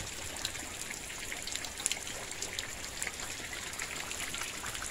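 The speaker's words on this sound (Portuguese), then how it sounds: "Tá chovendo demais" Heavy rain falls steadily in the countryside, a dense patter of drops with some trickling water, continuous and fairly faint.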